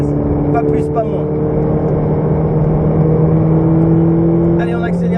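A Ferrari 488 GTB engine drones steadily with rising tone as it accelerates on the Dreux race circuit, a continuous loud motor hum with faint background noise.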